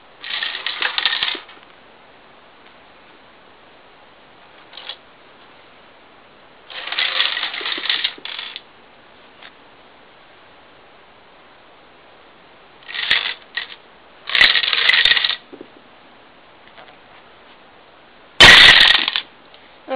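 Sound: domino chain toppling over

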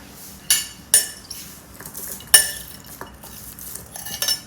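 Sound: mixing minced pork larb with utensils

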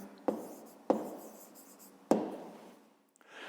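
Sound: pen writing down a math answer

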